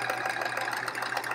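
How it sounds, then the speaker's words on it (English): A sewing machine stitching a segment onto a quilt row, a fast, even mechanical whirr with steady rapid pulsing through a brief run, close and moderately loud. "I'm just going to stitch the next segment onto it"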